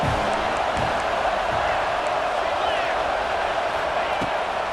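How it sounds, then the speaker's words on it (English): Stadium crowd noise in College Football 26 rising on a third-down defensive play: a steady, loud wash of cheering that holds level throughout, with a few faint thumps underneath. "Decibels rising as the crowd gets behind this defense on third down"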